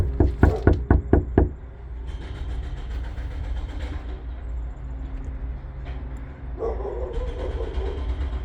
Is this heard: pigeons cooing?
no